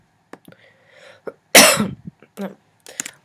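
One loud, harsh cough bursts out close to the microphone, surrounded by small clicks and quiet breaths.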